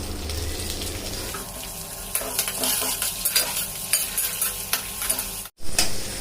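Charoli and raisins sizzle and crackle in a hot pan while being stirred, close and steady, with scraping clatter and a brief cut near the end.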